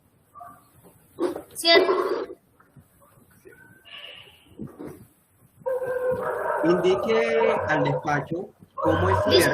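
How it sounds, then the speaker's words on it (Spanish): A dog barks in the background during a virtual labor court hearing in Ibagué, with intermittent yips breaking through steady, somewhat choppy speech from the participants. "Pero sí escucho el ladrido."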